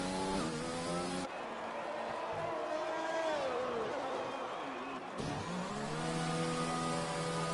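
Race car engines in a video game racing league, heard at a US and Mexico round, rev and whine steadily with harmonic tones sliding in pitch as cars accelerate and shift, loud and continuous throughout.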